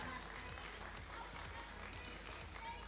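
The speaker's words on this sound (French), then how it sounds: "Tout le monde comprend les applaudissements." Audience applause at a FIRST LEGO League Cargo Connect robotics competition in Ciney, a steady dense wash of clapping from a crowd with voices chattering throughout.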